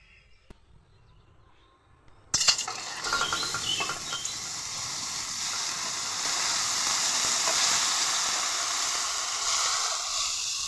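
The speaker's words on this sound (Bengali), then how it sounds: "মাখনটা কড়াইতে দিয়ে দিলাম। এখন এটাকে মাঝে মধ্যে এইভাবে নাড়তে থাকবো।" After a brief quiet moment with a small knock, a sudden loud hiss erupts as butter hits a hot wok, then settles into a steady sizzle.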